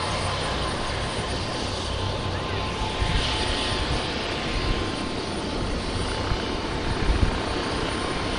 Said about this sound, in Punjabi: ਆਹ ਦੇਖੋ ਬਾਈ ਹੈਲੀਕਾਪਟਰ